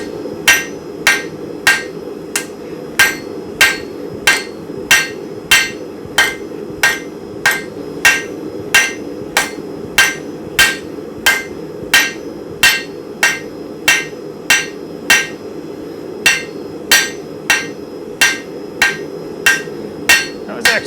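A hammer forging a square nail on an anvil strikes in a steady, even rhythm of sharp metallic rings, about two blows per second, loud and close, with no talking.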